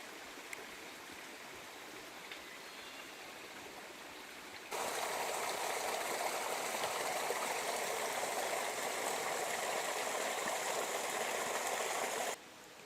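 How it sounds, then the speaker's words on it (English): Creek crossing on a wooded mountain trail: steady rushing and trickling stream water, faint at first, then suddenly close and full for most of the clip before dropping away again at the end. "Another creek crossing."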